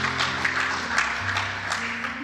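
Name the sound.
congregation applause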